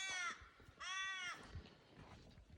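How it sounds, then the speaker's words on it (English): Two loud, harsh crow-like caws from a bird in mountain forest country, each about a third of a second long and rich in harmonics, followed by quieter rustling and background noise. "Hearing the birds sing too."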